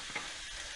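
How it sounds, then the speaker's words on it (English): Steady, faint sizzling hiss from steak frying in a pan preheated in a 400-degree oven, with a brief soft clink near the start. "I don't know if you can hear that sizzle."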